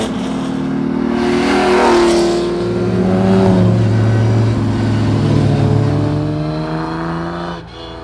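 Racing car engine from a Le Mans Aston Martin DB3S or Norwood P4, a loud, throaty roar revving and rising and falling in pitch up close for several seconds without talk.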